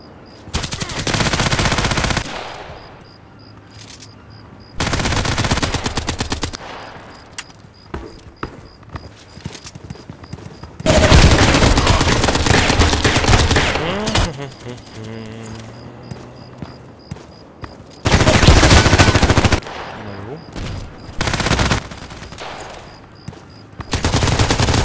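AK-12 assault rifle fire in the shooter game Contract Wars comes in loud, rapid automatic bursts separated by quieter stretches, with occasional single shots and faint in-game movement between volleys.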